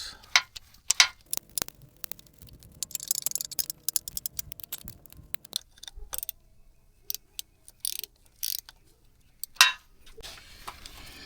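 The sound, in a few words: tightening lower bolts on Nissan Altima AC compressor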